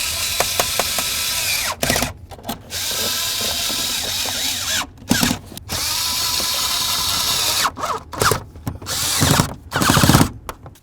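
A power tool drives the mounting bolts of a brake light switch on a 1994-2004 Chevy S-10, whirring loudly in several sustained bursts separated by short pauses and quick ratcheting blips.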